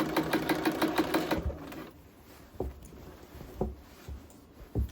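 A sewing machine runs a steady rapid stitch on a set-in blazer sleeve for about a second and a half, then halts, leaving a few soft fabric-handling thumps in a quiet room.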